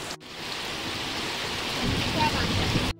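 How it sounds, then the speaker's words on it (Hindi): Heavy monsoon-style rain pours steadily outdoors, a dense continuous hiss that swells slightly toward the end before cutting off. "बादल वगैरह पूरा बारिश दे रहा है"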